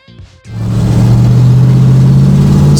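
A 1959 Chevrolet Impala with a rebuilt engine revs up during a test drive: a brief quiet start, then a loud, steady low engine drone that holds for the rest of the clip with no talking.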